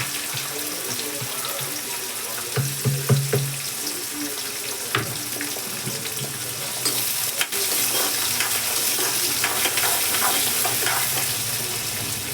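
Onion and green chilli go into a pan already frying urad dal and peanuts. There is stirring and scraping, then a strong, steady sizzle that rises and stays loud through the second half, with clinks scattered throughout.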